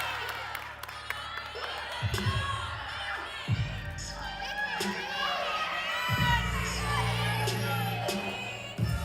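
Crowd at a women's NCAA gymnastics meet cheering and shouting in bursts, loud waves of voices with youthful yells, plus commentators talking over the arena noise.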